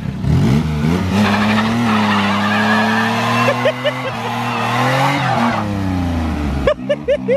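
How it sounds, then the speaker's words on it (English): Tyres of a 1982 BMW 320/6 crunching and grabbing loose stones while the engine runs loud and steady, with gritty scraping and a few sharp clicks near the end, no talk over it. "The tyres are so sticky, they're grabbing stones so bad."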